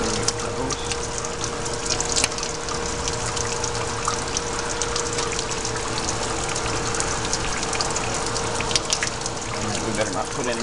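Water gushes steadily out of an unsealed oil separator tank, a continuous close rushing and splashing flow that holds for the whole stretch with no voices over it.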